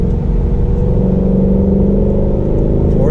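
A 2019 Ford Mustang GT's V8 revs and rolls on in fourth gear with a loud, steady, deep exhaust drone throughout, close and continuous with no talking over it.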